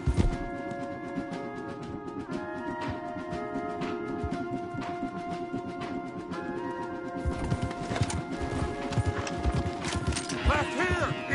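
Rhythmic hoofbeats of horses galloping steadily throughout in a video game played on PS4, layered over a busy game soundtrack with music and a brief shout near the end.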